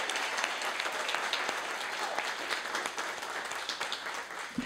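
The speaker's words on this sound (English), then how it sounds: "Give yourselves a round of applause." Audience applause at an evening anniversary reception fills the room with dense, steady clapping that holds throughout without pause.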